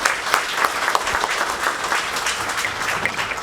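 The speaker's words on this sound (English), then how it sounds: "really give a round of applause to Michelle Gonzalez and her team this morning" Steady applause from an audience at the grand opening of a utility switching station, dense clapping held at an even level for a few seconds with no voices over it.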